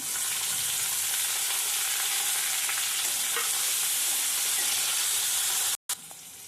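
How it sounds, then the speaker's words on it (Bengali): Chopped tomato with ginger frying in a pan for tadka dal, a loud, steady broadband sizzle throughout, cut briefly near the end before resuming. "এবার আমি দেব টমেটো কুচি"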